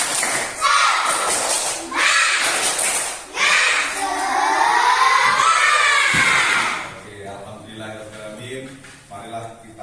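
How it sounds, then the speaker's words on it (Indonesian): Schoolchildren at a morning school assembly shout and clap together in a rhythmic spirit clap, loud crowd bursts in repeated beats for several seconds, then fading into an adult voice speaking. "Tepuk semangat."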